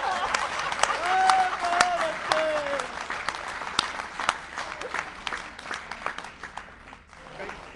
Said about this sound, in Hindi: अगली पंक्ति पर तो आप तालियां रोक नहीं पाएंगे